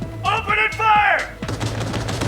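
Cyberpunk 2077 gunfire: sharp repeated shots crack in quick bursts, loud and close, with a brief ringing tone between volleys and a denser rattle of fire toward the end.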